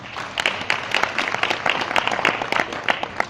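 An audience applauds the Executive Mayor at a community development event, a dense burst of clapping hands that holds steady and close for several seconds.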